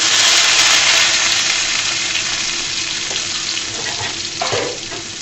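Garlic frying in a hot pan for taro leaf bhorta, a loud continuous sizzle close up that eases slightly over time, with a few faint scrapes of stirring toward the end.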